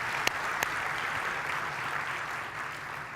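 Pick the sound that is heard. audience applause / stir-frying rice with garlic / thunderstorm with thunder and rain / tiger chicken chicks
audience applause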